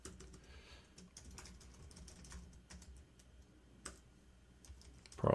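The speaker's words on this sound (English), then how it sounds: "apologize for my typing." Fingers typing on a computer keyboard while entering contact notes into CRM software, with quiet, irregular clusters of light key clicks and short pauses between bursts, heard close up.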